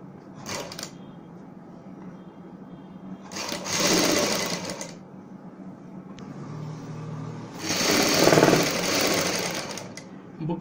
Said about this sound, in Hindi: यहाँ पे हम सिलाई लगाएंगे बुकरम के ऊपर।